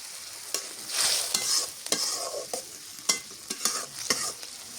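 Duck eggs frying in a pan with coriander leaves, sizzling steadily while a utensil scrapes and stirs in repeated sharp strokes, close and fairly loud with no talk.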